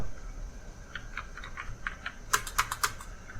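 Computer keys clatter in a quick, light run while entering data in Tally ERP 9, then several sharper, louder keystrokes follow, all close by with no talking.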